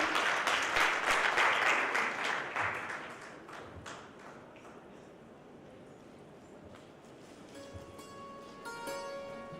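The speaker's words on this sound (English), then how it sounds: "Ladies and gentlemen, please round of applause." Audience at a cancer care conference in Nashik, India, applauding, with dense clapping that fades over a few seconds into scattered claps and room noise.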